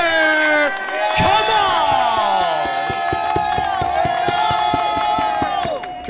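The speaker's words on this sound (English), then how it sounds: "Kamal, the crowd was going wild for you all finals." A loud tournament crowd cheers and whoops for the winner at a Yu-Gi-Oh! trading card game championship in Richmond, Virginia, with sustained shouting over a rhythmic beat of music.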